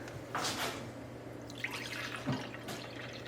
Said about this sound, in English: We are going to add a cup of apple cider vinegar.